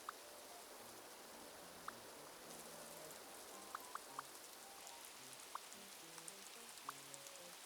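Steady soft rain falls in the video game Animal Crossing: New Horizons, a quiet, even hiss broken by scattered faint droplet ticks, with no voices.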